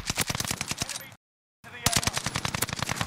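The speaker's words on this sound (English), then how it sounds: "They're shooting out." Rapid automatic gunfire in the Warzone video game, dense bursts of shots cutting off into a half-second of silence before the firing resumes just as loud, with the Akimbo Marco 5 in play.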